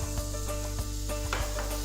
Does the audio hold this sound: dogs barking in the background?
no